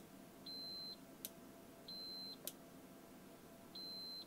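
An Agilent U3402A benchtop multimeter's continuity tester gives three steady electronic beeps, each about half a second long, repeating at a regular interval, with a couple of faint clicks between them in a quiet room.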